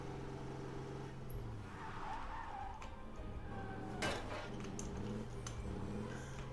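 A vehicle in the zombie game State of Decay 2 drives with a steady engine drone. Tyres squeal and skid briefly partway through, and there is a sharp knock near the end. No one speaks.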